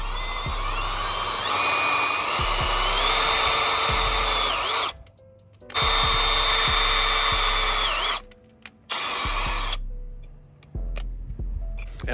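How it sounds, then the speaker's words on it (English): Power drill driving a self-tapping screw to bore holes in a Jeep Wrangler JK during a lift install, a loud steady whine in long bursts broken by short pauses, up close with no talk. "we're using a self-tapper to make holes"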